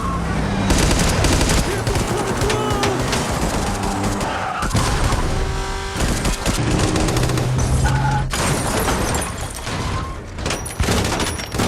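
Rapid gunfire rakes the president's motorcade in a scene from the film Civil War, loud and dense bursts mixed with skidding tyres and engine roar, sustained without pause throughout.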